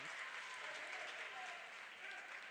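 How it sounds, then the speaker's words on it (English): A crowd at a girls varsity basketball game cheers and applauds, a broad, continuous roar that holds steady for the whole stretch. "gets a nice cheer from the crowd after that tough take to the basket"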